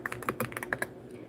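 Rapid keystrokes on a computer keyboard during live name typing, a steady run of close, crisp clicks lasting about a second before fading out.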